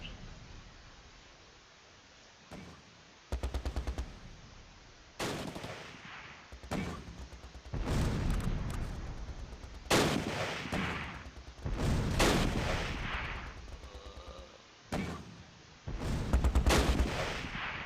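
Gunfire in a WWII battle at Arnhem in the strategy game Close Combat: Last Stand Arnhem, with repeated sharp shots and bursts at irregular intervals, some close and loud, others fainter, over a low background rumble.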